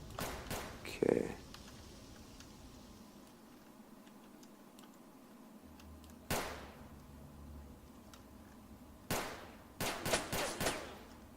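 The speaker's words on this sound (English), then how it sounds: "Who's shooting?" Gunfire in the video game STALKER: Shadow of Chernobyl, a few sharp shots and short bursts scattered through the stretch, moderately loud over a steady ambient hum, with a low tone partway through.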